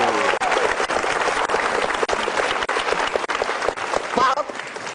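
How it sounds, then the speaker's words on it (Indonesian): An audience at an Indonesian stand-up comedy show applauds steadily and densely for several seconds, with a voice speaking over the clapping. "sekali lagi tepuk tangan buat Arif Didu"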